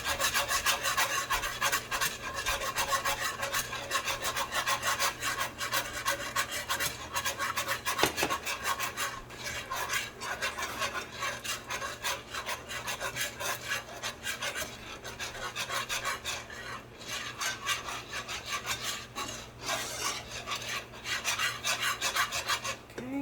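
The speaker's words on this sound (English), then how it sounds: "Then I have 2/3 of a cup of heavy cream. I'm going to whisk that in." Heavy cream being whisked into a creamy chicken noodle soup base in a pot, a steady scraping, rasping whisk stroke running continuously and fairly loud throughout, with no talking.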